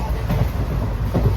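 Inside a moving train in Gujarat: a loud, steady low rumble of the carriage with faint rhythmic thumps, close and continuous for a brief moment.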